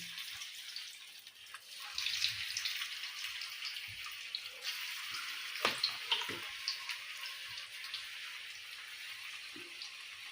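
Paneer and spinach kebab sticks frying in hot oil, a steady soft sizzle with faint scattered pops and crackles, close and continuous with no talking.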